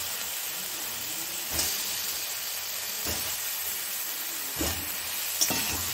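Egg curry with small whole potatoes sautéing in a pan, giving a continuous close sizzle and hiss broken by a few brief stirring scrapes, with no voices.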